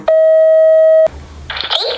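A phone's call tone after a voice command to call home, one long steady beep lasting about a second, loud and close, followed by a brief burst of other sound.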